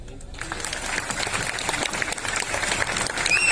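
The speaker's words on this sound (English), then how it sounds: "give them a big round of applause for your captain, Enrico Ziegler" Passengers aboard a cruise ship applaud their captain, a crowd's clapping building gradually in loudness, with talk and cheering mixed in and a faint high tone near the end.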